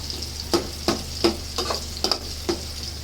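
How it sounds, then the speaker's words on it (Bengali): Onion frying in a pan under a soft, steady sizzle, with a spatula scraping in a regular rhythm about three times a second, close and clear with no talking. "একটু পেঁয়াজটা ভাজা হোক।"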